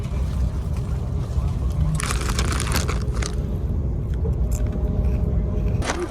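A bus engine rumbles low and steady from inside the bus, with clunks and rattles rising over it partway through.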